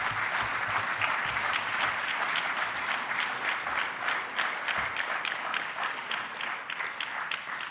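A conference audience gives sustained, even applause after a climate speech. Many hands clap at a steady loudness for several seconds, with no break and no talk over it.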